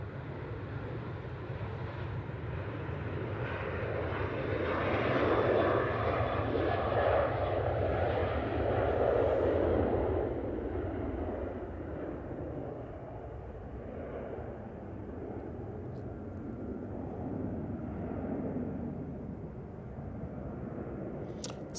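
A Brussels Airlines airliner taxis at Manchester Airport, its engine whine swelling to a broad roar midway and then easing back to a steady distant hum, with no one speaking.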